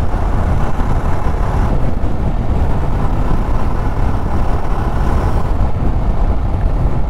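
A Jawa 42 Bobber motorcycle ridden slowly off-road over small stones, with a steady dense engine rumble and rolling noise, loud and continuous throughout.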